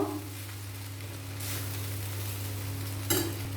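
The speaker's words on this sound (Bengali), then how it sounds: "সব উপকরণ একসাথে ভালো করে মিশিয়ে নেব" Vegetable fried rice ingredients being stirred together in a pan, a low steady sizzle with two brief scraping swishes of the spatula, and a hum underneath and no talking.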